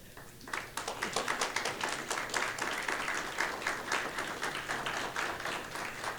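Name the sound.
audience applause welcoming a speaker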